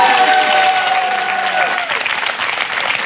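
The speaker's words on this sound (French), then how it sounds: "vous pouvez applaudir très très fort monsieur Laurent Baffy" A French television talk-show studio audience claps loudly in dense, sustained applause that fills the space, with a brief descending musical tone at the start.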